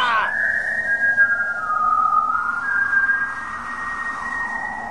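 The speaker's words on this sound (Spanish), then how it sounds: "Sí, lo derrotan silbando." Whistling from a Dragon Ball anime film scene where the villain is beaten by whistling, heard as a long sustained tone that glides and shifts pitch over a steady background.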